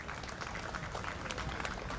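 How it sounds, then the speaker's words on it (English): Crowd applause at an outdoor July 4th patriotic program, honoring scout troops; steady dense clapping throughout, moderately loud and continuous with no talk. "How about some applause for these fine young men who showed their patriotism today?"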